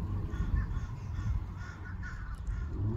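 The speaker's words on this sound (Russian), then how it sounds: "Вороны." Crows caw repeatedly outdoors in a garden, loud and fairly close, over a steady background of outdoor noise with no talking.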